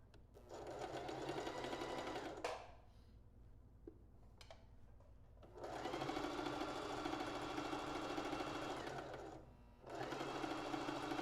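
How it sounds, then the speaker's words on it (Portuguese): A domestic sewing machine runs a zigzag stitch on lingerie fabric in three steady, even-rhythmed bursts, stopping briefly between runs, close and alone. "vamos fazer esse ponto aqui zigue-zague."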